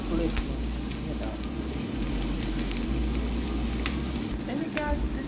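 Sausage patties frying in a pan with no oil, giving a steady, close sizzle and crackle throughout, with occasional scraping from flipping and a low background rumble.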